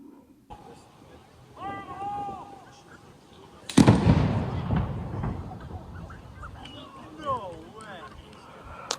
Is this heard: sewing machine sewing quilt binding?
no